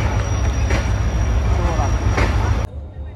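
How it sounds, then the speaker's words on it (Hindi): The Millat Express arrives at Rohri railway station on a cold winter night, a loud steady rumble of rolling carriages with faint squeals, under background voices, before it drops suddenly near the end. "रोड़ी रेलवे स्टेशन पहुंच चुके हैं"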